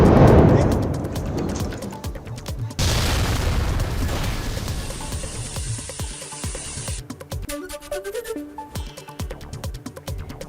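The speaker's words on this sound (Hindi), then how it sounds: "गुजरात के भरूच में एक केमिकल फैक्ट्री में जबरदस्त धमाका हुआ।" Blast at a chemical factory in Bharuch, Gujarat, a loud deep boom at the start followed by long rumbling roar and crackling debris noise in a broadband wash, with no speech.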